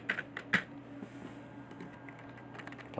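Clicky typing on a computer keyboard while setting invitation text in Photoshop, a quick burst of keystrokes at the start and then steady soft tapping throughout, close and fairly quiet with no talking.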